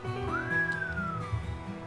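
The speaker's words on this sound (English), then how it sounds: "Mai whistled." Mai, a character in the video game Asagao Academy, gives a single short whistle that slides up and gently falls away, quiet and alone over a faint background.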